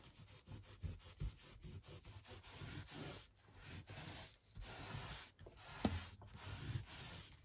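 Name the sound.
wiping ink off embossing with an old face cloth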